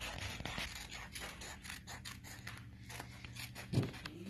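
Scissors cut a cloud shape out of paper with soft, steady snipping and scraping, close and quiet, with no talking.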